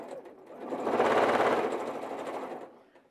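A sewing machine chain piecing quilt squares runs in one steady fast stitching burst, rising and then trailing off, close and fairly loud.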